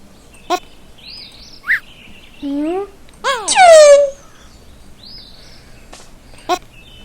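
Bird calls in the video game 3 Pandas: a handful of short, loud chirps and sweeping whistled tweets scattered across several seconds, close and clear over a quiet background, with no talking.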